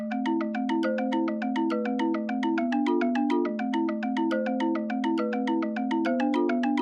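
Bell-like tones ring out a steady, bouncing melody in a lilting triplet rhythm, bright and continuous with sharp attacks on every note.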